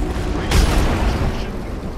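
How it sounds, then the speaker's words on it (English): Airstrike explosion in the battle royale game Apex Legends, one sudden loud boom about halfway through that rumbles and fades over a low background. "Heads up, we got an airstrike on us."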